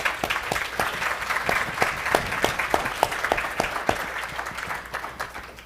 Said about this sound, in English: if we could give a round of applause for them